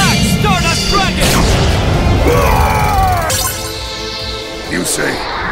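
Stardust Dragon attacking in the Yu-Gi-Oh! Duel Links video game, a loud blast of crashing booms and sweeping whooshes with rising and falling tones, played under excited voices.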